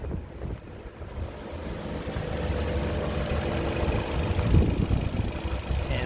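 A 2021 Toyota RAV4 XLE Premium engine idles steadily with a low, even rumble that stays constant and fairly close throughout, with no talking.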